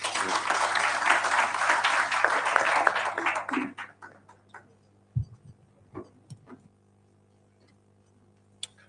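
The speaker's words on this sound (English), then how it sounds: "Another round of applause for the Honorable Paoli Omondi." Applause from an audience at a political report launch event, a dense burst of clapping for about three and a half seconds that fades out, followed by a few scattered claps and thumps in a quiet hall.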